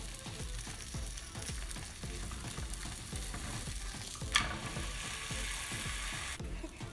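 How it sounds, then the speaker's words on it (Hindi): Chicken cheese paratha cooks on a lightly oiled tawa, a steady close sizzle with soft scraping and stirring knocks, and one brief sharper flare of hiss near the end, with no talk. "अभी हमें एक तवा लेंगे, उस पर हल्का सा ऑयल लगाएंगे और अपना पराठा रख देंगे।"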